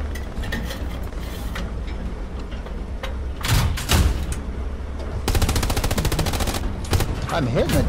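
Gunfire aimed at a tank in the World War II shooter Hell Let Loose rattles out in short bursts, then a sustained fast machine-gun stream in the second half, loud and close amid ambient battle noise.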